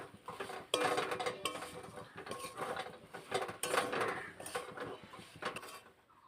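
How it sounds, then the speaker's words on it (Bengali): Spoon scraping and clattering against a pan while fried spice mix is stirred for a sweet-sour-spicy plum pickle, with repeated close metallic knocks and scrapes in an uneven rhythm, no talking. "মশলাটা ভেজে রাখা দিয়ে দেবো মশলাটা দিয়ে আবার নাড়াচাড়া করে নেব"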